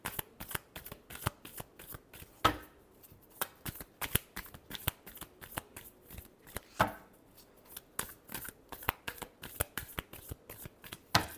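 Tarot cards are shuffled by hand in quick, crisp riffling bursts with short pauses between rounds, close and fairly quiet, with no voices.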